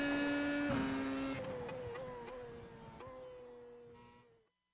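Race car engine tone lapping Circuit Gilles Villeneuve in Montreal in the iRacing sim, a steady high pitched drone that shifts through gears several times and fades out at the end, with no talk.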